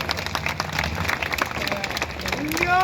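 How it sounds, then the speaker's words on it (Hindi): Audience applause welcoming a speaker at a press event, a dense wash of clapping and crowd noise that stays loud throughout, with voices mixed in. "श्री प्रमोद तिवारी जी का जोरदार तालियों से स्वागत।"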